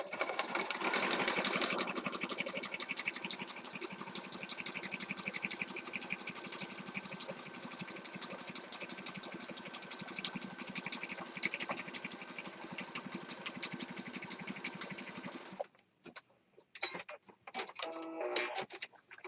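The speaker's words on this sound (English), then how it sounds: "I'm going to start down here on the bottom and stitch all the way across until my machine runs out of thread." A sewing machine stitches continuously across a paper junk journal page, a fast, even needle rattle held for about fifteen seconds close by, then breaking into short stop-start bursts as the thread runs out.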